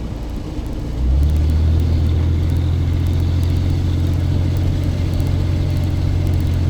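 A stock 2004 Chevrolet Silverado with a 4.3 V6 and a Black Widow 250 series aftermarket muffler idles, then settles into a loud, steady low exhaust drone that stays constant and close throughout.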